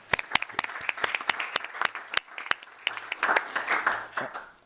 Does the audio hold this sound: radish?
no